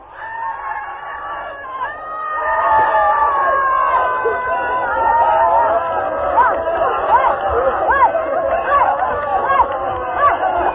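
Meditators shouting and screaming together during an Osho meditation, many overlapping wailing, rising and falling voices that build after a quiet start and stay loud and continuous.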